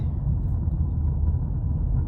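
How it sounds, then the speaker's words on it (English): Slow I-4 highway traffic heard from inside a vehicle at about twelve miles an hour, a steady low road rumble with a faint engine hum and no voices. "The joys of I-4 traffic"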